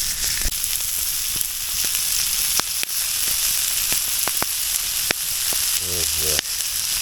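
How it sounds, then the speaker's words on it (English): Smelt fish frying in a cast iron pan: a steady, close sizzle and hiss with occasional sharp pops and crackles, continuous throughout. "here's some of those fish from that video, cooking here today in the cast iron frying pan"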